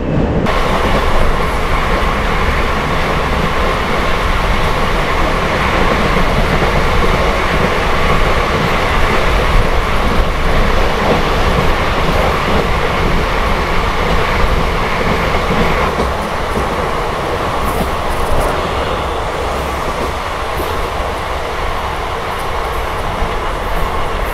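A train on the Bengaluru airport line near Channasandra station rumbles steadily along the rails, loud and close, with a continuous roar and faint clatter of wheels throughout.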